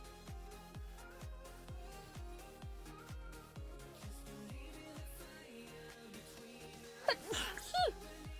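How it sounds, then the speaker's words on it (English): A single human sneeze bursts out near the end, breaking over a steady thumping rhythmic music loop that plays throughout. "I'm going to sneeze. I'm really sorry."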